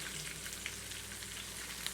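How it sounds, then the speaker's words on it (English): Steak fries in a frying pan with a quiet, even sizzle. The crackle is continuous and broken by a couple of faint pops, and no one speaks. "as it's on a frying pan, I have no idea how this is going to cook"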